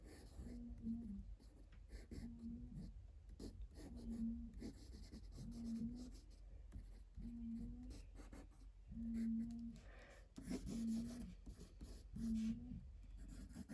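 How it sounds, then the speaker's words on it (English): Pencil or crayon drawing snow clouds and falling snow on paper, a soft scratchy scribbling that repeats in steady strokes with short pauses, close and fairly quiet under a low hum. "I'm going to draw some snow clouds. And some snow around it."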